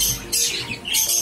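A pet bird with an injured wing gives close, loud chirps in two bursts of high tweeting, with faint fluttering and rustling in between and no voices.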